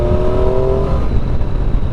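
A Triumph Street Triple motorcycle's three-cylinder engine revs loud and close, a steady throaty drone with a higher tone that fades after the first second, no talk over it.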